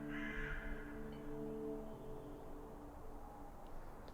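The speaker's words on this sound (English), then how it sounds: "It's inhabited by dozens, if not hundreds of crows?" Crows caw faintly in a dim wooded spot in the horror game Saint Kotar, a few hoarse calls early on over a quiet, low ambient hum.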